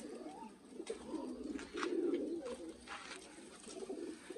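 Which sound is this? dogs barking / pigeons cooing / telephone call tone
pigeons cooing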